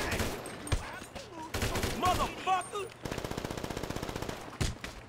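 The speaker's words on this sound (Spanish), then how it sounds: "Hay más tiros, hay gente ahí arriba" Automatic gunfire in the video game GTA 5 during a zombie virus scenario, scattered shots followed by a rapid, evenly spaced burst of a dozen or more rounds, with other game sounds in between.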